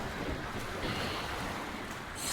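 Strong wind buffets the microphone on a Michigan lake beach, a loud continuous rushing roar blended with the wash of surf, with no voices.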